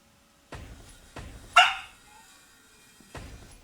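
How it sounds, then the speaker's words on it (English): A pet dog named Copper barks indoors at home, set off by a school bus passing outside: three sharp, fairly close barks spaced over a few seconds, with a brief high yelp between them. "Copper's apparently going to bark"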